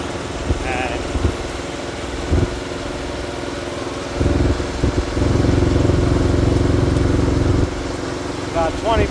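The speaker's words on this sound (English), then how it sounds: "This is the first day we're planting with our new air seed drill." A tractor pulling an air seed drill across a field: a steady low engine drone runs throughout, rising and thickening for a few seconds mid-clip, with faint machinery rattle.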